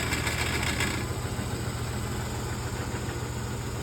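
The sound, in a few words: General 340 drill press running with slight rattle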